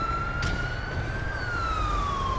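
Ambulance siren from the emergency-services game Los Santos Emergency, a steady electronic wail sliding slowly up and then down in pitch, loud and continuous over a low rumbling engine bed.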